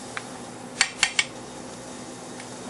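A smooth, guacamole-like sauce stirred by hand, with three quick, bright clinks of a utensil against the bowl close together and a couple of fainter taps around them, over a quiet steady background.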